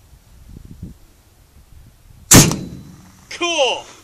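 After a quiet stretch with faint murmuring, a single sharp, loud blast from a small 1 3/4-inch cannon cracks out nearby, followed by excited voices.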